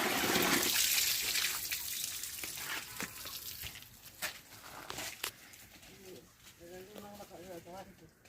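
Water splashes loudly as a bag is washed by hand with well water, the sloshing strongest at first and then fading into lighter trickles, with bird calls audible later.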